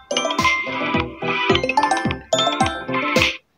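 A cellphone ringing through a Find My Device play-sound alert even while set to silent: loud, repeated chiming ringtone bursts in a regular pattern, four cycles close by, with no voices.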